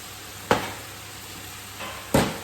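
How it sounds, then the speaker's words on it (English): Mince for lasagne frying in a pan, a low steady sizzle broken by two sharp scrapes of stirring, close and without voices. "start mixing that around so that all the mince is covered in all of that flavour"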